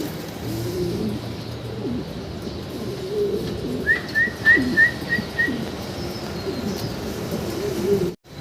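Pair of big-size shoaking pigeons cooing among many birds, a soft low warbling murmur throughout with a brief run of bright whistling chirps near the middle.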